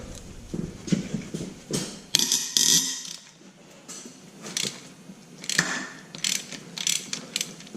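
A ratchet wrench loosening bolts on an Audi AAN engine during teardown, heard as bursts of close, sharp clicking ratchet strokes separated by quieter pauses, with no talking.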